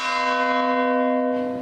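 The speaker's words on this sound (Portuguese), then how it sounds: "quando ouvia as badaladas dos sinos da Igreja Matriz de Nossa Senhora" Church bells of the Igreja Matriz de Nossa Senhora do Rosário in Pirenópolis ring out in one loud, sustained peal with rich ringing overtones that slowly fade, heard alone without voices.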